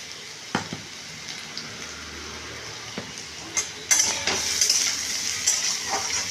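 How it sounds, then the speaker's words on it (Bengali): Potatoes fry with a pinch of asafoetida in a pan, a soft sizzle punctuated by sharp spoon clinks and stirring scrapes, growing louder and busier toward the end. "তাই আলুটাকে এবার আলুর মধ্যে হিং একটু অ্যাড করছি।"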